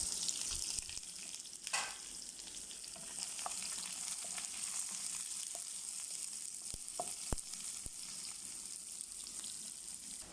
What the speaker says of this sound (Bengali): বসায় দিলাম ফ্রাইদানি কড়াই, দিয়ে দিলাম তেল, রসুন কুচি দিয়ে দিলাম